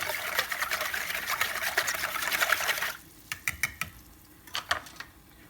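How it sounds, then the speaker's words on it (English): A small whisk taken from a mixer rapidly stirs raw sugar into a sauce, a fast close rattling whir for about three seconds, then stopping and giving way to a few separate clinks and taps. "Take a little whisk off the mixer and stir that up"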